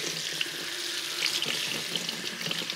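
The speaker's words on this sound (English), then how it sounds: "Koi, turn the faucet." Water pours steadily from an outdoor faucet, a continuous close hiss and splash with small irregular bursts and no voices.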